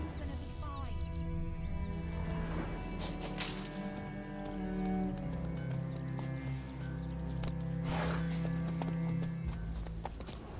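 The horse Roach clip-clopping in The Witcher 3: Wild Hunt, steady rhythmic hoofbeats plodding at a walk throughout, close and moderate, beneath low sustained tones and brief bird chirps.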